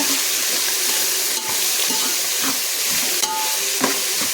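Onions and green chillies fry in oil in a pan for home-made chicken biryani, giving a steady, loud, close sizzle with a few soft stirring scrapes and no talk.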